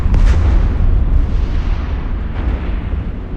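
Heavy, booming ship weapons firing in EVE Online, a loud rumbling barrage with low thuds and a second softer volley near the end, continuous and close.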